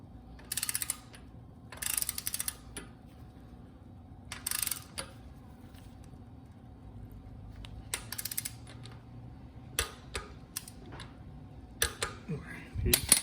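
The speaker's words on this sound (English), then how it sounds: "Torque wrench. Again, I have mine set at 15 foot-pounds." Torque wrench tightening bolts on a Harley-Davidson Dyna Street Bob transmission, several short bursts of fast metallic ratcheting clicks separated by pauses, close and clear, with scattered sharp taps near the end.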